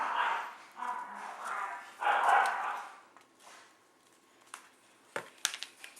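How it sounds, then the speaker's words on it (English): A Labrador retriever barks and whines in several bursts nearby, then things quiet down to faint clicks and small knocks. "The one making all the noise is my Lab."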